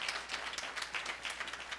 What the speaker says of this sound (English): get him a round of applause